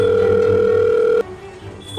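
A telephone ringing with a steady electronic tone that cuts off abruptly partway through, followed by quieter room sound.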